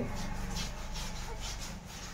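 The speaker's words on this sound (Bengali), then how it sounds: "দেখো ঘর পুরো পরিষ্কার করা হচ্ছে ঘষে ঘষে" Someone scrubs a floor by hand while cleaning a house, making steady, rhythmic rubbing strokes that are close and fairly loud throughout.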